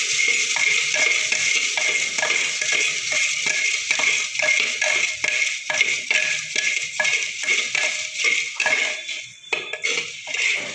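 Spices, lemon juice and other munta masala ingredients are stirred by hand in a bowl, producing repeated clinking and scraping strokes of a spoon against the dish in a steady rhythm, close and alone.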